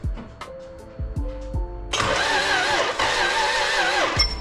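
A Toyota 2JZ engine on a jumper cranks in several short bursts, then catches and roars into a loud, rough idle with revving that continues to the end.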